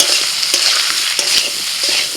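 Spice paste of ground ginger and cumin with turmeric and chili powder, with greens stalks and potato, frying in a pan while being stirred continuously, giving a steady close sizzle with repeated scraping strokes.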